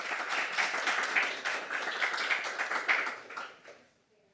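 An audience at a book event at the Politics and Prose bookstore applauds to welcome a guest, dense clapping holding steady before tapering off to quiet.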